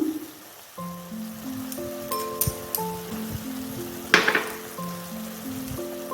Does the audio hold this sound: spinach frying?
yes